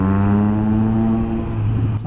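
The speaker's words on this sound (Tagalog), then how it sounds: "gustong-gusto ko yung tunog ng triple cylinder talaga." A Triumph Trident 660 triple-cylinder motorcycle engine runs with a steady, loud, even hum, close and without any voices, holding its pitch for about two seconds.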